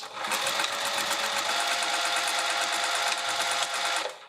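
A sewing machine stitches two fabric pieces together, running continuously with a rapid, even mechanical whir and clatter up close, then stopping at the end.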